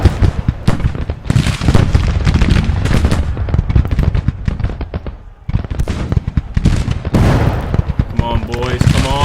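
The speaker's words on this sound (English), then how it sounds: "The boys are firing." Dense, continuous volleys of musket gunfire from Civil War troops in a battle video game, loud and overlapping cracks with a brief lull midway, with faint background sounds toward the end.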